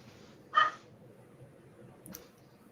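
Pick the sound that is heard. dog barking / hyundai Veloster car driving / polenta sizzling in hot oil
dog barking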